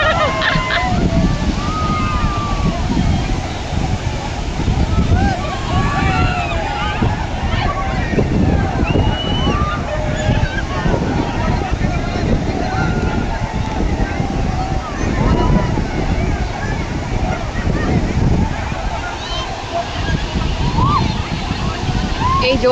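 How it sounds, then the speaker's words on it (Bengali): Sea waves surging onto a beach at high tide, a continuous broad wash of surf and sloshing water with wind buffeting the microphone, steady and loud throughout, with a voice speaking briefly over it. "কত ঢেউ, বাপরে।"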